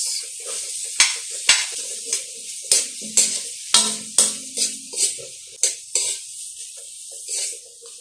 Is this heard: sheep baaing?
no